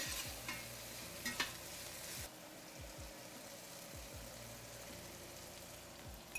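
Potatoes and spices stirred in a hot pan for an Indian curry: repeated soft scraping strokes and a quiet steady sizzle, each scrape close and distinct, with no talking.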